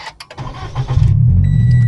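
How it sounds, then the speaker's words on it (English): A Subaru BRZ cranks and fires up close by after a few clicks and rattles, the engine catching and settling into a loud steady idle. "Now we're going to try to start this car up."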